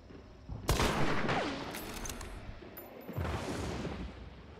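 A sharp sniper rifle shot fires in Hunt: Showdown, a single loud crack with a long rolling echo, followed by a quieter, more distant second report a few seconds later.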